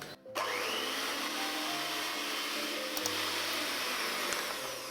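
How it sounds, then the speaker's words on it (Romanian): A hand mixer fitted with kneading hooks works through dough, giving a loud, steady motor whine that starts abruptly after a brief pause and runs close and continuous to the end. "Putem frământa cu mâna sau cu mixerul, cu aceste cârlige pentru frământat,"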